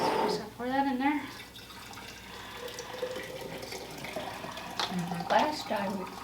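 Hot herbal liquid is poured into a jar, a continuous trickling pour under people talking close by.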